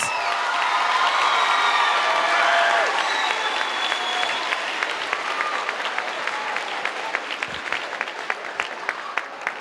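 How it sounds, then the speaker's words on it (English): Loud, sustained applause from an audience at a middle school 8th grade promotion ceremony, with scattered cheers and whoops over dense clapping that eases slightly toward the end. "How about another round of applause for our 8th graders?"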